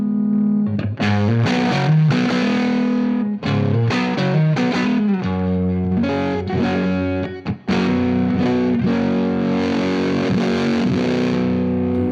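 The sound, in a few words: fuzz pedal guitar tone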